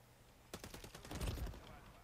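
Rapid gunfire from a Call of Duty Modern Warfare 3 multiplayer match, a close burst of several quick shots swelling into a heavier, louder volley before tailing off.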